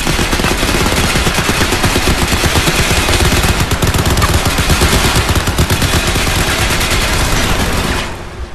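Sustained, loud automatic gunfire in the video game Crysis 3 hammers continuously for several seconds as dense rapid bursts, then cuts off abruptly at the end.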